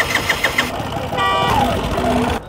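A motorcycle running on butane gas cranks with a few rapid starter pulses, then catches and revs up to a loud, steady engine drone close by, dropping off abruptly at the end.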